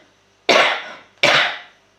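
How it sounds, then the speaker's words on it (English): Two loud, sharp coughs close by, spaced under a second apart, each a harsh burst that trails off, with quiet between them. "Now I want to cough."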